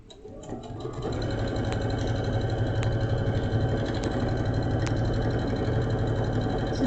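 A sewing machine stitches a quilted table mat in a steady, close, continuous whir that starts after a brief lead-in and runs without pause, with faint ticks from the mechanism and no talking.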